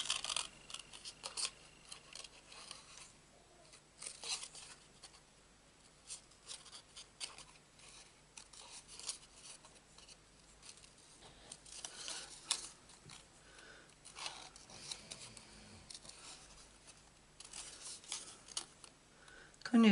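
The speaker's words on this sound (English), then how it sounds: "Now we need to cut these flowers." Scissors snipping out paper flowers for a handmade card, quiet irregular cutting sounds and rustling paper close by, in small bursts across a long stretch.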